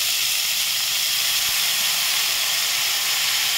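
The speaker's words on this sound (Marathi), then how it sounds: "हे किसलेले गाजर आहे, हे मी याच्यामध्ये घालून घेणार।" Grated carrot hitting hot ghee in a pan for gajar halwa, a steady bright hiss and sizzle holding evenly throughout at close range, with no voices over it.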